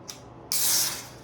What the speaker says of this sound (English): Whoa, we got some fizz.